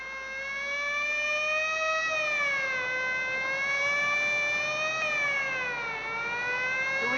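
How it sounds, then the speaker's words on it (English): A police car siren wails, rising and falling in slow, steady sweeps, loud and continuous, with no voices. "Quite unnecessary use of that siren"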